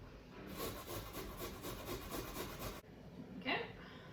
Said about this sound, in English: I'm going to use the grater for this